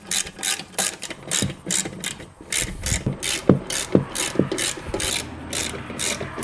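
A ratchet tightens bolts on the back of an LG Prime 16H high-voltage battery, a close, rhythmic series of quick clicking strokes with small metallic knocks and no talking.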